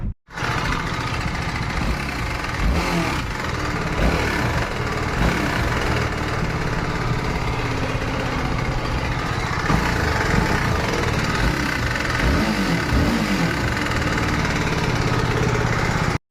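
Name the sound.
TVS Apache RR310 motorcycle engine running after camshaft timing repair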